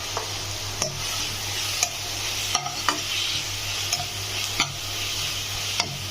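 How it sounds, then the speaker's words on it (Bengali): Ginger-garlic paste frying with onions in a pan for a chicken dish, a steady sizzle broken by regular spatula scrapes and taps about once a second, close and clear with no talking. "ভালো করে একটু নেড়ে নেব আদা রসুনের কাঁচা গন্ধটা চলে"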